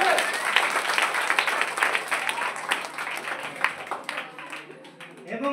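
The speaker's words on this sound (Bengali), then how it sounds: "মেহতাজের বাবার জন্য জোরে হাততালি" A school audience applauds loudly for a student's father who built a harmonium, a sustained burst of many hands clapping close by, with voices talking over the clapping.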